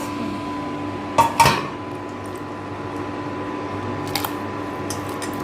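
Washed rice tipped into a cooking pot, with a short clatter of metal and grains near the start and a lighter clink later, close up over a steady low hum, with no talking.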